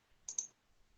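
A computer mouse clicks twice in quick succession, crisp and close, while an example program is selected in the PSeInt editor, with near silence before and after.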